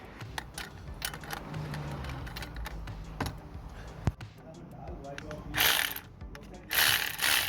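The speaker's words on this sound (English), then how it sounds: "First things first, put both bolts on, and then you tighten them up, okay?" Ratchet tightening starter motor bolts on a 2008 Skoda Octavia, rapid close clicking in bursts with metallic knocks, followed by louder rushing noise near the end.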